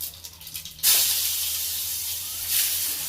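Onion paste hitting hot oil already tempered with mustard seeds and cumin: a sudden loud, steady hiss and sizzle that swells again briefly near the end.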